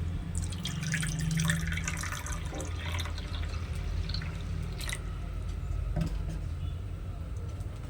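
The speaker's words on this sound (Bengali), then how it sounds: "এভাবে মেপে 4 বাটি জল দিয়ে দিচ্ছি" Measured water, four bowls' worth, is poured steadily onto rice for a lightly sweet coffee pulao, a continuous splashing and trickling that stays close and even for the whole stretch.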